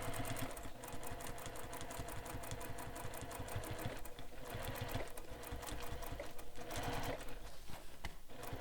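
A sewing machine runs steadily, stitching along a bag seam just outside the original line of stitching, its rapid needle clatter continuous and close with brief slowdowns.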